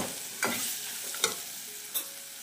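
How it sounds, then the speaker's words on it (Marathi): Homemade Malvani chili masala sautéed in a pan on low gas, a soft steady sizzle with three distinct scraping stirs of a spoon at regular intervals, quiet and close, no voices. "जरा 2 मिनटं जरा स्लो गॅसवरती ना चांगलं असं परतून घेते."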